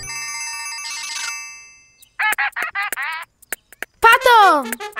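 Cartoon duck character Pato calls out in a series of short, loud quacking squawks, following a bright ringing ding tone at the start; the calls come in quick bursts with brief gaps, close and alone.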